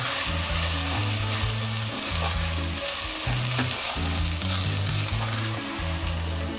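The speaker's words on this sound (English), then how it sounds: "all I do now is just, for some time, I'll just keep stirring this" Rice frying in a pan while being stirred gives a steady sizzle with occasional scraping, all under a loud tonal music bed that runs throughout.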